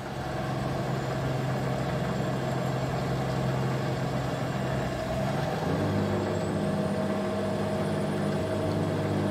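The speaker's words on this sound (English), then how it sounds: "This truck is struggling to get up this hill." A heavy truck in American Truck Simulator labors uphill, its engine droning low and steady, the pitch shifting partway through as the load changes, with a soft hiss near the end.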